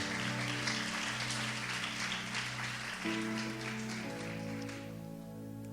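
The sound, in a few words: congregation applauding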